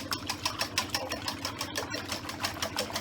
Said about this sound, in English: these are the eggs, which we're going to whisk